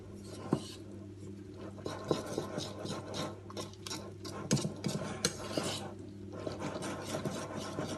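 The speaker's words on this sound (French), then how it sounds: "Donc on mélange bien." Broccoli muffin batter being mixed in a bowl, with steady rasping, scraping strokes of a utensil and occasional clinks against the bowl, close and continuous throughout with no talk.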